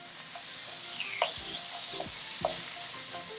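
Seasoned chicken searing in an uncrowded pan, a steady close sizzle with occasional scrapes and clinks of a utensil moving the pieces, no voices.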